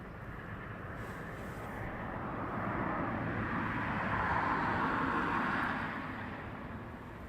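Aircraft taxiing at East Midlands Airport at night, a distant, steady engine rumble and whine that slowly swells and then fades, heard alone without talk.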